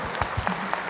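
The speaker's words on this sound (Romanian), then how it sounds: "Aplauze, aplauze, aplauze!" Audience applause at a Bucovina Day concert show with a folk orchestra, brief steady clapping with a few sharper claps standing out, moderately loud, with no voices over it.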